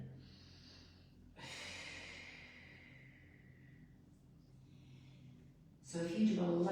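Heavy exhalation and inhalation during a Pilates push-up in a back care class, with a long audible breath out followed by quieter breathing and a brief louder sound near the end.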